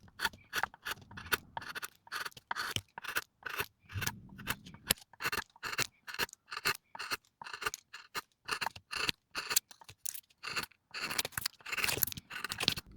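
Chisel struck with a mallet, paring wood from a log that is being made into a mallet; a steady series of sharp, close tapping and scraping strokes continues throughout, with no talking.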